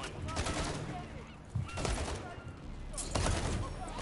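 Gunfire in the Call of Duty MW3 campaign, dense bursts of rapid shots and heavy impacts rolling through the whole stretch, loud and close, with a few brief vocal sounds mixed in.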